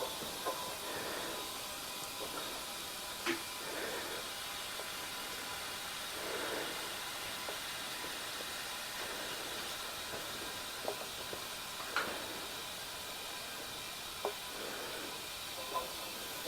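Steady broadband hiss from a leak on an old Chevy squarebody truck that has sat for 30 years, continuous and close, with faint muffled sounds and occasional small clicks over it.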